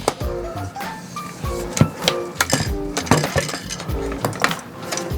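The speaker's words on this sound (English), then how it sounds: "So let me get these screws out of the bag." Small screws for an all-in-one liquid cooler in a new PC case build clink and rattle as they are shaken and picked out of a plastic bag, close up with light irregular metallic taps.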